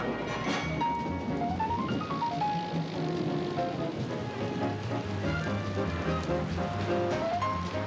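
Rain falls steadily on a New York street, a dense continuous hiss at constant level, blended with a swelling orchestral music score that plays throughout.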